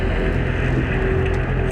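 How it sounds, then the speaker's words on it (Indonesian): A boat rides high sea waves, with a steady, close engine drone and rushing wind and water noise throughout, loud and unbroken. "Kayaknya ombaknya tinggi banget guys."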